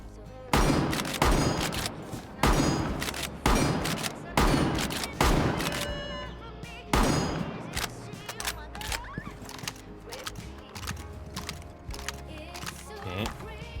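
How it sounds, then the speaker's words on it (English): Shotgun blasts in a first-person shooter video game, about six loud booming shots at roughly one-second intervals, followed by a faster, lighter string of gunfire and clatter. "Let's try the shotgun."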